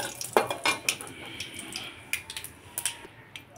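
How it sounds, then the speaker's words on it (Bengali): Bay leaves and cumin tempering in a pan for a Bengali dish, a faint sizzle under close clinks and scrapes of a utensil against the pan, irregular and fairly loud. "এখন আমি সম্বারাতে দিয়ে দিব তেজপাতা আর জিরা।"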